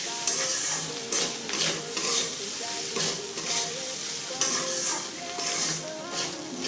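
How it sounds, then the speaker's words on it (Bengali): Fried egg being stirred and mixed into sizzling fried potatoes in a pan, with steady scraping strokes of a spatula over a constant frying hiss, close and moderately loud. "দেখুন, ডিমটা ভাজা হয়ে গেছে, এবার আমি আলুর সঙ্গে মিশিয়ে দিচ্ছি।"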